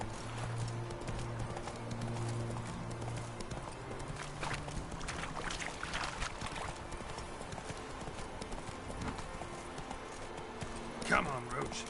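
Hooves of the horse Roach clip-clop at a steady gallop in The Witcher 3 video game, a continuous rhythmic beat running the whole time under game music, with a brief whinny near the end.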